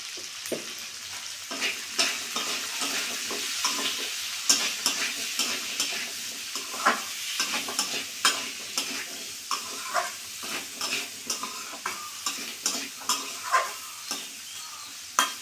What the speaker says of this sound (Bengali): কুমড়োটা আমি ভাজা ভাজা করে নেবো একটু